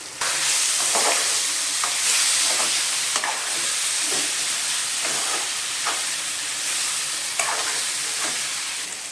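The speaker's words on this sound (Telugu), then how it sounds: "అల్లం వెల్లిపాయ వేసి ఒక 5 నిమిషాలు వేపాలి." Prawns frying with ginger garlic paste in a pan, a loud continuous sizzle and hiss broken by repeated stirring scrapes, with no speech.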